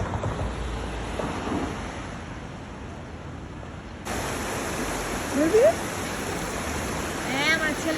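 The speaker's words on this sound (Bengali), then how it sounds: "চারোদিকে ঝর্ণা, ঝর্ণার পানি" Mountain waterfall water pouring steadily in an open valley setting, a broad continuous rush that grows louder halfway through, with brief faint voices and a bird chirp over the roar.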